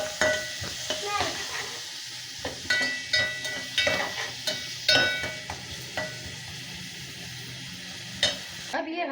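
Two diced onions fry in a pan for a macaroni dish, giving a steady close sizzle broken by repeated sharp stirring scrapes and clicks of a utensil throughout.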